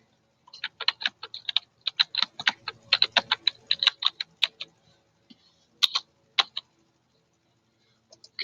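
Rapid bursts of typing on a computer keyboard, dense clattering keystrokes for several seconds that thin into a few scattered presses, close and clear, with no talking.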